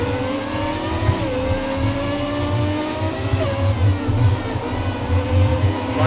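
A Formula 1 car in the F1 2017 racing game revs hard and continuously, its high engine note climbing through gear changes with brief dips under braking, loud and close throughout.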